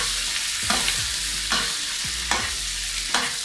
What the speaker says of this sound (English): And then you can start to baste it, just making sure the lamb does not dry out as it cooks slowly as well